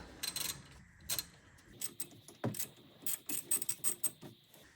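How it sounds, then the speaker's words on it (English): Hand wrench loosening a 14 mm brake caliper bolt on a Tesla Model 3, a series of close, sharp ratcheting clicks in quick bursts separated by short pauses, with no talk. "what we gotta do here is undo the bolt that's back there"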